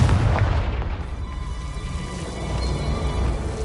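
A Confringo spell explodes in the video game Hogwarts Legacy with a heavy, booming blast up front that trails off into a low rumbling decay.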